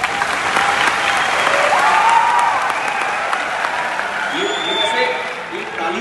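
A large seminar audience at a Forever Living Products success-day event claps steadily for about six seconds, a dense sustained roar of hands with a few faint voices and whistles rising near the end.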